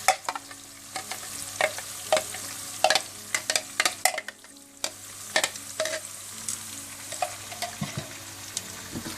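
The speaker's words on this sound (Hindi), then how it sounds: "चिकन को थोड़ा सा भूनने के बाद आप इसमें दही और ब्राउन प्याज का मिक्सचर डाल दें।" Chicken for degi korma frying with a yogurt and brown onion mixture, its steady sizzle broken by many sharp, irregular scrapes and knocks of a spoon stirring in the pot, close and clear.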